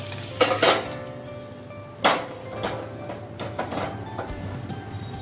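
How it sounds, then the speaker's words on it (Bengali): An egg frying brown in a pan on a home stove, with a soft background sizzle under sharp scraping and clinking of a utensil against the pan, a few distinct knocks. "ডিমটা আমার সুন্দর ব্রাউন কালার করে ভাজা হয়ে গেছে"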